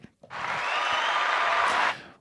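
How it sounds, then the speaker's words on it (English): A burst of applause from a group, steady clapping that swells quickly, holds for about a second and a half, then stops abruptly. "Give you some applause."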